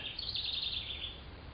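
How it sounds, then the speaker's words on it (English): Wrens and other birds chirp outside a barn, a steady band of high, bright twittering that carries through the whole short stretch at moderate distance, with no talking over it. "we actually have a lot of birds around here."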